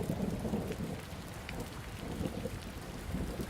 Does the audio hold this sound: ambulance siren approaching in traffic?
no